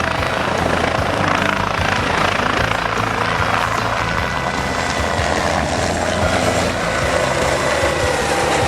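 A helicopter's turbine winds up toward full power, a dense steady whine over a low rotor chop that builds gradually and stays loud and close, heard from inside the cabin.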